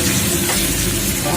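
Loud, steady frying sizzle from a hot pan, close and continuous through a short stretch, with no speech over it.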